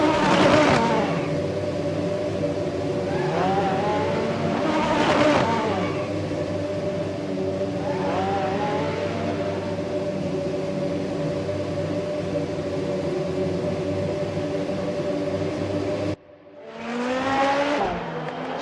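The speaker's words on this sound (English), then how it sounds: "So we got the first cars out on track for the second qualifying session of the day." Race cars out on track during a second qualifying session at SUGO circuit in Japan, engines droning steadily with repeated rising and falling passes, a sharp cut then another car rising near the end.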